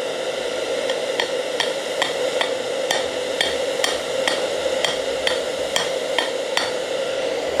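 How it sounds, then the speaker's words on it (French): A hammer strikes a stuck part on a Mercier bicycle during workshop disassembly, sharp metallic blows landing in a steady repeated rhythm, loud and close over a constant background hum. "Si même le marteau veut pas la faire bouger"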